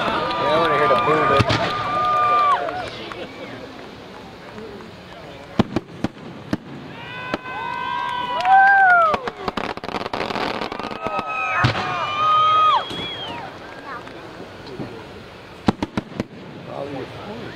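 Fireworks shells burst at a 1996 Florida Pyrotechnic Arts Guild show in Muskegon, giving sharp distant booms and crackles alongside whistling rising shells, with crowd chatter and voices talking throughout.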